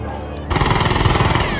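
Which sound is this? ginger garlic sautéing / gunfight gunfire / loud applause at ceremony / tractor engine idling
gunfight gunfire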